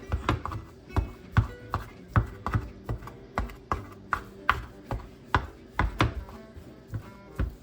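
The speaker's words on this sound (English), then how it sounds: "I'm gonna shred it, and then I'm going to just kind of finely, I don't know, chop it" Knife chopping shredded meat finely on a cutting board for a pasta salad: a steady series of sharp, close taps, roughly two per second, with faint background room noise.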